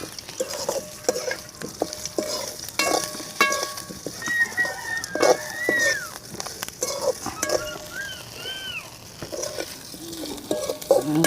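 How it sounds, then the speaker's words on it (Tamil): Boiled ragi balls are stirred in a pan with fried curry leaves, giving light scraping and clinking with a soft sizzle, intermittent and close, while birds chirp in the background. "அடுத்ததாக வேக வச்சு எடுத்த ராகி உருண்டைகளை போட போகிறோம்."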